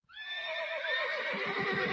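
A horse gives a loud, close whinny as a sound effect in a horror-story audiobook. One long, quavering call rises and holds, with faint hoof-like thuds underneath toward the end.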